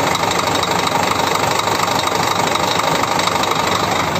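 A double-decker bus engine, on an SR 2 from Bangladesh, idles loud and close with a rough, constant rumble and steady vibration throughout; no talking.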